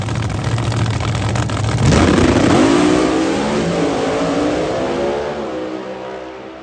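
A 5000 hp Pro Mod drag car at a drag strip: its engine runs at a low, steady level, then swells into a loud, rising roar as the car launches and carries on for several seconds before easing off slightly.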